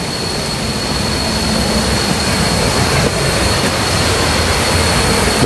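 A strong waterfall at Mayang Falls roars in a loud, continuous broadband rush that stays steady and unbroken from start to finish, close and overwhelming.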